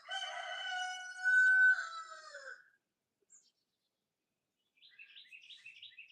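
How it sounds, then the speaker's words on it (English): A rooster in a backyard chicken coop gives one loud, close crow, then falls silent. Fainter bird chatter follows a moment later. "And there's the roosters."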